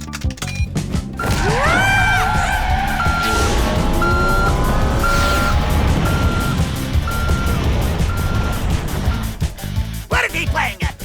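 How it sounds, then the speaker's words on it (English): A cartoon ship's engine thrown into full-throttle reverse roars loudly and steadily under repeating reversing-style beeps and electronic tones, ending with clattering crash-like hits. "Porco, put her into reverse, full throttle!"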